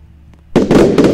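Fireworks going off in the Roblox game Lumber Tycoon 2, a quiet stretch broken by a loud burst of crackling pops that carries on densely to the end, with a second burst layered in.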